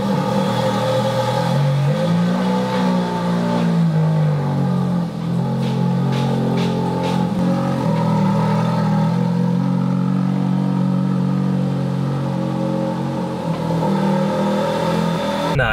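A Ferrari engine runs close and steady as the car is moved, a deep continuous drone rising and easing slightly, with faint clatter over it and no speech.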